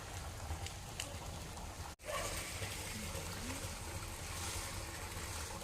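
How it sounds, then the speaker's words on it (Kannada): A garden sprinkler spraying water over areca nut saplings outdoors gives a steady rushing hiss with faint mechanical ticking, briefly cut off once near the start before resuming. "ಇವಾಗ ಸ್ಪ್ರಿಂಕ್ಲರ್ ಆನ್ ಮಾಡಿದ್ದಾರೆ ನೋಡಿ ನೀರು ರಡ್ತಾ ಇದೆ"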